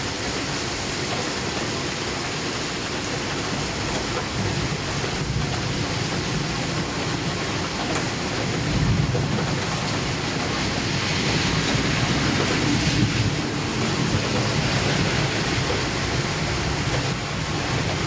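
Rain during a thunderstorm, a dense steady hiss of falling water that swells slightly midway, continuous and fairly loud with no voices.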